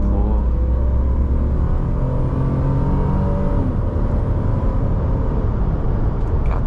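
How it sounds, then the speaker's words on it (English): A 1999 BMW E46 328i inline-six pulls steadily under acceleration, a loud, close, continuous engine drone with rising harmonics and heavy low rumble inside the cabin, no talking. "That nice inline-6."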